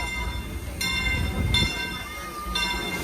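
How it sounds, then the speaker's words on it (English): A Disneyland train passing nearby with a steady rumble and rolling rail noise, bright metallic squeals or whistle-like tones recurring over the roar. "I caught the train on the way in and I caught the train on the way out."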